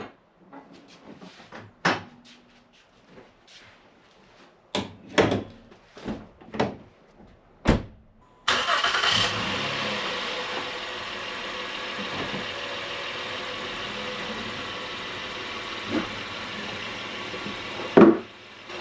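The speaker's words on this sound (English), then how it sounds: "it's just a matter of backing the truck off the ramps" Engine of a 2017–2019 Honda Ridgeline or Pilot truck starting up and settling into a steady idle, preceded by scattered clunks and door-like thuds, running close and continuous after the start until the end.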